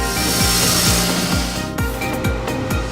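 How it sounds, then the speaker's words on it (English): Buffing wheel working brass pieces from a fan lamp build, giving a steady loud grinding whir with a repeating low rhythmic thump, continuous and close with no talking. "If you have a kind of a buffing wheel, this is a great way to buff out your brass pieces."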